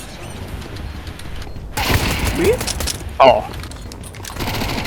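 A burst of video game gunfire bangs out briefly amid a quiet background, followed by a sharp whistling streak and a short loud report, with a player's voice heard under it.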